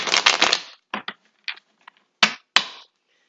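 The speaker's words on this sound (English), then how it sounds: "And I shuffle until I feel good about the cards," Tarot cards being shuffled by hand: a quick riffling burst, then several short separate snaps and flicks of cards, close and crisp, with silence between.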